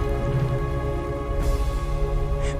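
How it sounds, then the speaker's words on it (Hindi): Rain falling suddenly, a dense steady hiss of drops that stays fairly loud and even, with a faint sustained tonal hum beneath and no speech. "फिर अचानक से बारिश होने लगी।"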